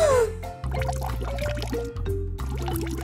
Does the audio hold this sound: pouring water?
yes